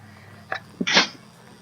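A single sharp human sneeze, a quick inhaled catch followed by a loud burst, close up over a low steady background hum.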